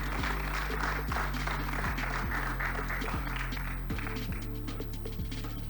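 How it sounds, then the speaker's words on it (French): Audience at an awards ceremony applauding to welcome a startup founder, a steady mass of clapping heard over a constant low electrical hum with faint thumps. "Sous vos applaudissements"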